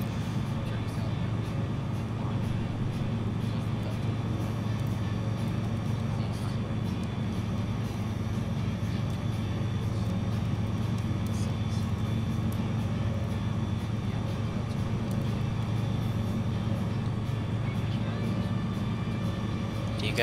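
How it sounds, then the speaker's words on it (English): Wind and engine drone inside a light bush plane flying over Alaska in Microsoft Flight Simulator 2020, a loud, unbroken roar holding steady for twenty seconds. "It would probably be bad if you didn't hear any wind in an airplane."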